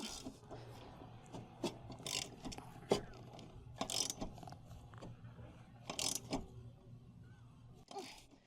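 Ratcheting wrench clicks and metallic scrapes, close and fairly faint, come in short irregular bursts as the blade bolt on a Toro Recycler 22-inch lawn mower is tightened.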